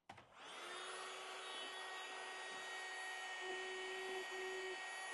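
A cheap ATB vacuum cleaner fitted with a nozzle attachment starts up and runs with a steady, fairly quiet whine and airflow hiss, with a small rattle or two near the end.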